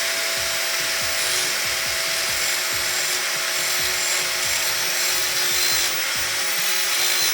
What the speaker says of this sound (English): When you're doing your landing, you wanna angle your grinder like this.